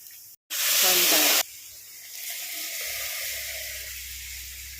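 Cooked cowpeas drop into a pan of frying chilies with a sudden loud sizzling burst that lasts about a second, then settles into a softer steady sizzle and hiss, heard close up.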